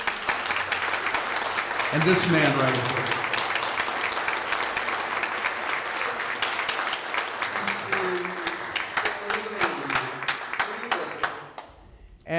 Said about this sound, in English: another round of applause for Peace Islands